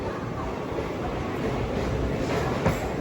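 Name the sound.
Krishna Express train at Nellore station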